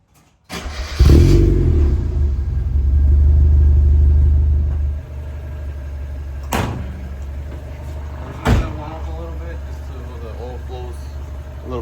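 A Mazda Miata engine cranks and fires up, revving loudly for a few seconds before settling into a steady idle, with a couple of sharp knocks and someone talking over the running engine.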